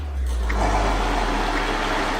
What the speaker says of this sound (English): Cover that with a lid and put it into the blender and turn it on.